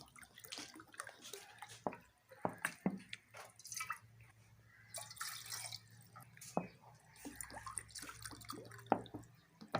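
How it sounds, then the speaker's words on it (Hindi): Three glasses of water splash and drip into a pot for Kashmiri chai in uneven bursts, close by, with small squishy liquid sounds and no talking. "3 गिलास पानी डालेंगे।"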